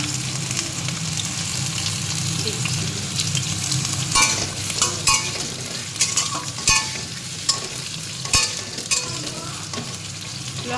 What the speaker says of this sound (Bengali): ভাজাতে অল্প লবণ দিয়ে দেবো দিয়ে একটু ভেজে নেবো